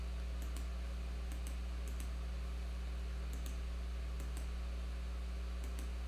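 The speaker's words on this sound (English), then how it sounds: "Clearly I'm clicking buttons." Computer mouse buttons clicked during a Tableau software demo: sparse, faint clicks in small pairs and clusters, spread over several seconds against a steady electrical hum, with no speech.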